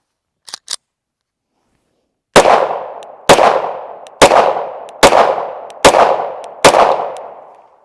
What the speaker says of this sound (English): I'm going to do 2 mags through this gun just to give you my initial impressions